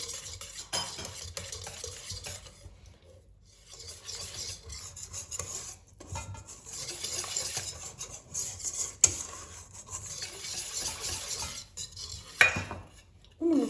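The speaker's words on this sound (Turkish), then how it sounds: "Şimdi bunları güzelce karıştırıyorum" Bread dough ingredients with salt and oil are stirred in a bowl for a Ramadan pide, giving irregular scraping and rubbing strokes with a few clinks of a utensil, close and without voices.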